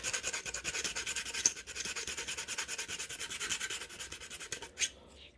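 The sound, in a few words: sanding a 1/48 scale plastic model aircraft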